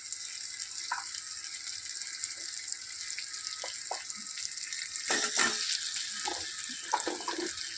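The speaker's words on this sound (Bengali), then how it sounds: "আমি এই মশলার সাথে হালকা হালকা করে সবগুলো সবজি ভেজে নেব।" Mixed vegetables with spices frying in a pan for a fish-head vegetable curry, a faint, steady sizzle with occasional clinks and stirring sounds close by.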